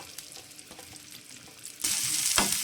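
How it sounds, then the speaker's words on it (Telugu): Three thinly sliced onions dropped into hot oil for an egg fry, soft stirring noises that break into a loud, steady sizzle partway through, close and alone. "సన్నగా తొడుక్కున్న ఉల్లిపాయలు మూడు గడ్డలండి మూడు గడ్డలు ఉల్లిపాయలు ఇవి ఈ ఆయిల్లో వేసేసుకోవాలి"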